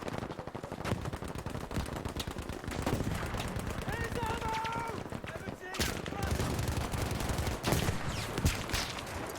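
Rapid gunfire and sniper shots from Battlefield 5 multiplayer combat, loud bursts and cracks over continuous battle noise, with a voice talking over it.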